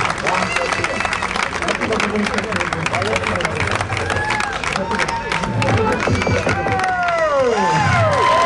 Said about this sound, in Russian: Аплодируем все, ребята.